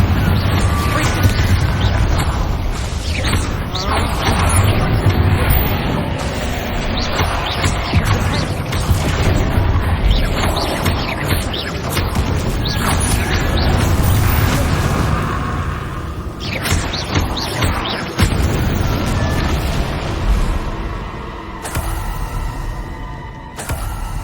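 Spell explosions in the Hogwarts Legacy game, including Confringo blasts, come as heavy booms and crashes layered over a dense, loud combat din that stays busy for most of the stretch and thins out near the end.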